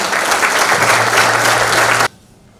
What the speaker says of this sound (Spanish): para que también pedimos un fuerte aplauso